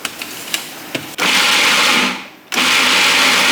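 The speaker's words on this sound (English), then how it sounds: "So let's get these in the food processor." A food processor whirs loudly as it chops garlic scapes, starting after a few light clicks, briefly winding down, then surging back to a steady full-power roar.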